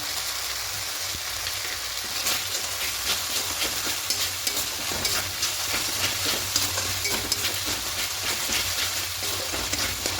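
Spice paste with a little sugar being stir-fried for a potato and cauliflower roast, a loud continuous sizzle broken by frequent scraping stirs, no voices.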